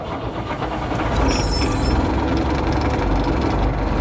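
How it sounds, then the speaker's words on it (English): Big six-cylinder diesel engine of a Ford Cargo 0811 truck, heard once already running: a steady, loud, shuddering low rumble with slight rise in intensity, no talking. "So we'll fire up the big 6-cylinder engine."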